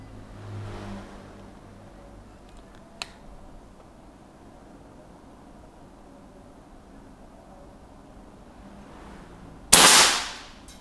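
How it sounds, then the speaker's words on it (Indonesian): A single sharp air rifle shot cracks out loud near the end, following a faint click earlier against a quiet outdoor background. "tembakan keenam, bonus satu tembakan lagi untuk memastikan"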